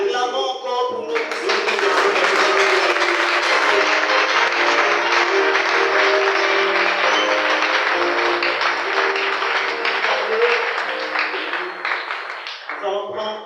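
A church congregation applauding and cheering during a sermon: loud, dense clapping and acclaim from a large gathering, sustained for about ten seconds over a held organ or keyboard tone, then dropping off abruptly.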